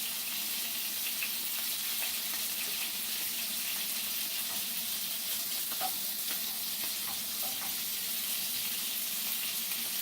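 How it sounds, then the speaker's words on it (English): Scallops sear in hot oil with a loud, continuous sizzle and crackle that stays even throughout, with no voices. "the larger side is the one that we are searing in hot oil"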